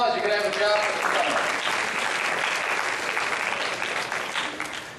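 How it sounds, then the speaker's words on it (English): A crowd claps together in sustained applause that gradually tapers off, with a voice briefly audible at the start. "give yourselves a round of applause"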